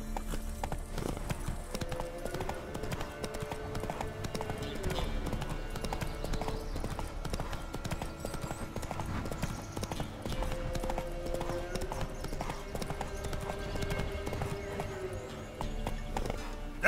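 Roach the horse trots in The Witcher III, with a steady, close rhythm of hoof clip-clops over game music.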